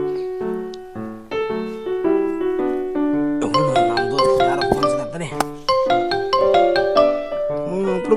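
A mobile phone rings during a call to a friend named Gopal, playing a loud, close melodic ringtone tune of bright tones that repeats and builds without pause.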